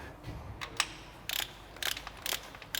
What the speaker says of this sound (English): Right, so torquing it now.